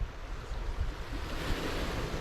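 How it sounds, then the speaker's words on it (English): Calm sea in the Bristol Channel off South Wales, gentle surf washing in a soft continuous rush, mixed with light wind noise on the microphone, no voices. "The sea's quite calm as well."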